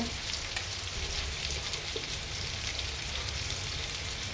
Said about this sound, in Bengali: আলু লাউ ভাজা হচ্ছে এখানে।